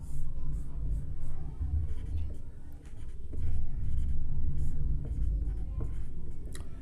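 Handwritten working for a Class 10 geometry problem on a triangle, pen or chalk scratching in short uneven strokes over a steady low background hum, with no talk.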